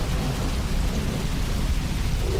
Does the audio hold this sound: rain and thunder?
yes